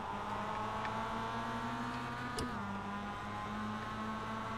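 Mazda MX-5 production race car engine at Summit Point in iRacing, a steady droning tone with a slight pitch shift midway, heard alone.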